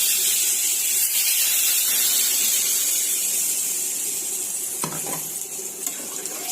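A vegetable curry in a pan on a gas stove hisses with a steady, even sizzle, close and moderately loud, with a brief clatter of a utensil near the end and no voices.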